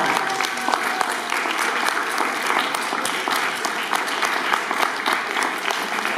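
Sustained, dense audience applause at a young Kashubian congress in a community culture hall in Kartuzy, steady and loud throughout with faint voices mixed in.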